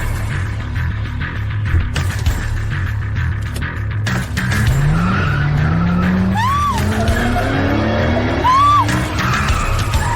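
A car skids with squealing tires as it swerves hard into a parking spot, long rising screeches over a steady engine rumble, loud and close.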